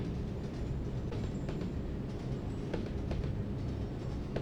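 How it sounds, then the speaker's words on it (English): Train rolling steadily along the tracks, a continuous low rumble with faint rhythmic wheel clacks, steady and fairly close, with no voices. "The rhythmic cadence of the train steadily chugging along the tracks creates a hypnotic symphony"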